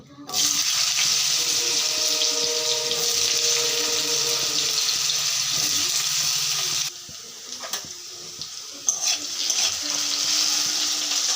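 Cut potatoes frying in oil with dry chilli and bay leaf, a steady bright sizzle running continuously, dipping briefly partway through before resuming at full strength.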